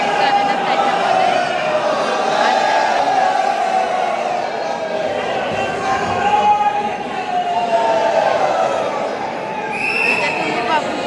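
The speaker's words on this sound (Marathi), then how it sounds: "माझा आवाज नाही येणार तुम्हाला, कारण की इथे खूप गर्दी आहे नागेश्वरच्या मंदिरामध्ये" A dense crowd fills Nageshwar temple with a loud, continuous wash of overlapping voices and murmur, nearby chatter rising and falling throughout.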